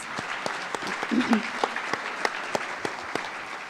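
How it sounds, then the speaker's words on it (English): An audience at a Duchenne and Becker muscular dystrophy community conference gives a round of applause, a steady wash of many hands clapping at moderate loudness with a few distinct sharp claps standing out and faint voices underneath. "give a round of applause to Grace and Chris"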